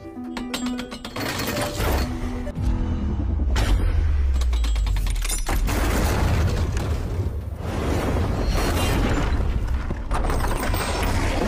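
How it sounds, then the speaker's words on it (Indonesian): A woman fires on soldiers in a video game, with sharp mechanical bursts and heavy booming impacts over a rumbling low end, loud and sustained with dense rapid reports. "mereka dibombardir dengan tembakan dari si wanita tersebut"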